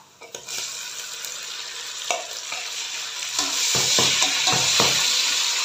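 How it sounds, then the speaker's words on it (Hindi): Chopped tomatoes cook for vegetable pulao in a sizzling pan, a steady hiss broken by repeated spoon scrapes and knocks that grow busier and louder toward the end, with no voices. "टमाटर को थोड़ा सा टेंडर होने तक कुक करेंगे।"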